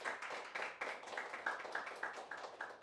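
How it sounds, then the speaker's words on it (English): An audience at a workshop claps in warm applause after a presentation; the sound is faint and distant, with a steady run of soft claps. "let's give Annette a warm applause for his presentation."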